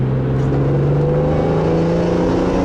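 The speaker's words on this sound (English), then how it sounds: "it's a true BMW straight 6. It loves being revved." A 2002 BMW M3 SMG's straight-six engine revs loudly and close, a strong droning tone that rises steadily in pitch as the car pulls hard, with no talking.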